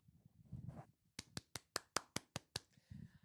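A single person claps their hands as mock applause, about ten sharp, evenly spaced claps in a quick steady rhythm, close and crisp, between brief murmurs.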